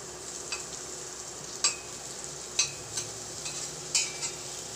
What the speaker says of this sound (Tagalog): Gigisa lang ho natin ng ayos yan.